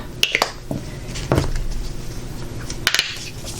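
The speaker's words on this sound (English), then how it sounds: "I'm going to mix 3 to 4 ounces in each cup" Acrylic pouring paint being mixed in cups with scattered soft squishing, scraping and clinking of stir sticks against cup walls, a few close sharp ticks among quieter wet stirring.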